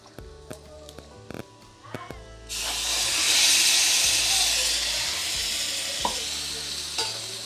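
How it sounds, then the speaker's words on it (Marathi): A few clinks and knocks, then a loud, steady sizzle as mushrooms hit a hot pan and keep frying, with light stirring. "तर आता मी यामध्ये ॲड करते जे आळंबी घेतली होती ती आतमध्ये ॲड करते"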